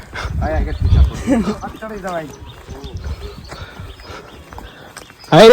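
Donkey hooves clip-clop steadily on the way to Pavagadh temple under ongoing talk from several nearby voices, with a sudden louder burst of sound at the very end.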